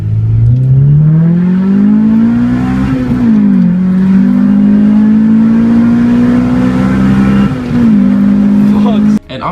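Someone's first car, nicknamed Veronica, is driven after an install. Its engine drones loud and close, revving up in rising sweeps with brief dips between gears, then cuts off sharply at the end.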